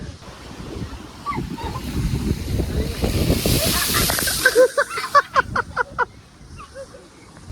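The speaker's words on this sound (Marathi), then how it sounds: "लोक भिजत आहेत छान आणि असं लाटा येत आहेत" Sea waves surge and break on a beach at Daman, India, with a rising roar that fades into hiss, amid wind buffeting and brief splashy bursts.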